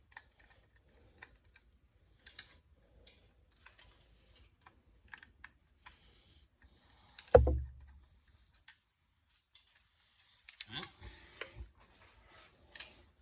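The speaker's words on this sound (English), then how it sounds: "I'm just going to cut all these connectors off" Wire cutters snip connectors off the wiring of a 16 inch Reed-Prentice machine, making sparse sharp clicks spread over the stretch, with one heavier thud midway and a quick cluster of clicks near the end.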